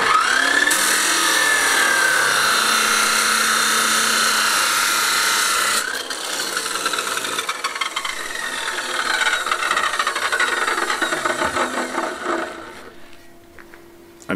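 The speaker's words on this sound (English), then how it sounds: "It's back out with the steel saw to cut the last of the legs" A steel saw grinds and rasps through metal support legs for a solar panel mount with a harsh, sustained screech, then changes pitch and winds down near the end.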